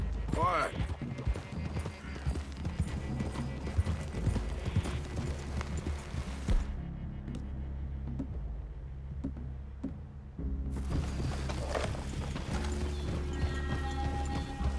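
Horses in the Red Dead Redemption 2 video game clop along steadily with close, continuous hoofbeats and occasional whinnies, under game music and some talking.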